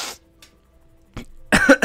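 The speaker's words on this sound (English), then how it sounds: "I didn't mean to cough in the mic there" A person coughs sharply into a close microphone, a couple of brief bursts separated by near silence, ending in a louder harsh cough.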